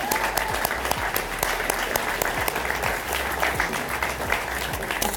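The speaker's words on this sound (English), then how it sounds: "So congratulations and give yourself a round of applause." Graduates applaud themselves at a May 2018 graduation ceremony, a thick, continuous roar of many hands clapping at a constant level throughout, with a faint low hum underneath.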